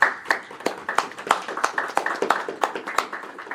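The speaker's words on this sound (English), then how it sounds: "let's have a round of applause for all of our panelists" A small audience claps for panelists at a political discussion, a steady run of distinct, fairly close hand claps at an even pace with no talking over them.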